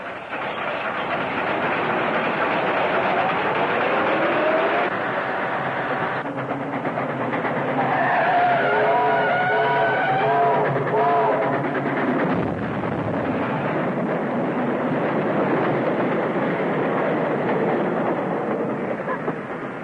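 A train rumbles past a crossing steadily for a long stretch, with heavy low roar, rattling cars and squealing metallic tones in the middle.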